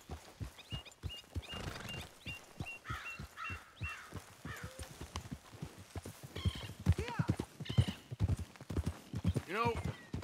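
Steady clip-clopping horse hooves trot along in the video game Red Dead Redemption 2, with a horse whinnying and birds cawing over the rhythmic steps.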